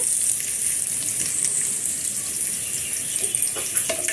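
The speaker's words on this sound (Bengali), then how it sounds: "পেঁয়াজ কুচিটি ভালো মতো ভাজা হয়ে গেছে" Two chopped onions fry in a pan with black cumin, giving a soft, steady sizzling hiss with faint stirring scrapes near the end.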